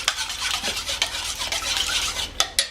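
Galette batter of buckwheat flour and egg being stirred in a bowl, a steady scraping, whisking rhythm with a few sharper clinks of the utensil against the sides near the end.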